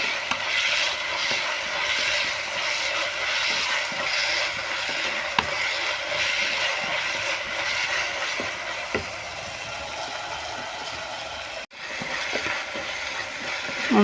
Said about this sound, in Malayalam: നമുക്ക് അരിഞ്ഞു വെച്ചിരിക്കുന്ന തക്കാളി ചേർത്ത് കൊടുക്കാം.